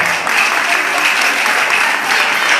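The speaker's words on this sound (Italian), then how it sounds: "fatemelo sentire ancora una volta l'applauso forte e caloroso" Loud, warm applause from a carnival audience in Cerignola for a performer, a thick continuous burst of clapping close by.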